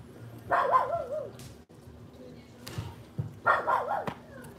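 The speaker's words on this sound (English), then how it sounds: "I apologize for my dog." A small indoor dog barks in two short bursts of yips and whimpering barks, close and loud, separated by quieter moments with faint background noise.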